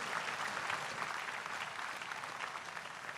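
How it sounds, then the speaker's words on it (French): A church congregation applauds in a dense, steady roar of clapping from many hands that fills the whole stretch at even strength, with no individual voices standing out. "Applaudissons pour Jésus-Christ."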